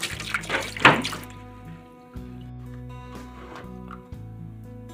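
Water runs from a tap with splashing and clinking dishes, then stops, leaving a low hum with a few soft knocks of washing up.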